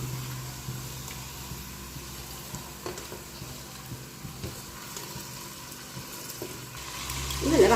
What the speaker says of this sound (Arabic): وهلا بعد ما قلينا البصله لحالها شوي بنضيف الدجاج